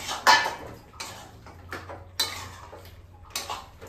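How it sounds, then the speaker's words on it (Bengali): Fried potatoes being tipped into simmering mutton curry in a pot, heard as several sharp, close metallic clinks and scrapes of a spoon against the pot, spaced irregularly over a low background hum. "এবারে আমি ভেজে রাখা আলুগুলো মাংসতে দিয়ে দিলাম।"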